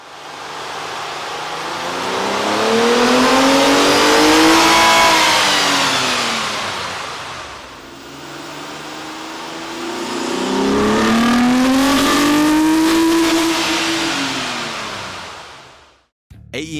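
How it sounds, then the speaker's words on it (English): A Nissan Maxima 3.5L engine fitted with an AEM air intake revs on a dyno in two long sweeps, each climbing to a loud, rising roar and falling away, close and without talk. "Here's a comparison of the car's sound on the dyno with the stock OEM system versus"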